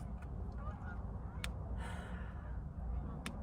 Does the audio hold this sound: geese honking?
yes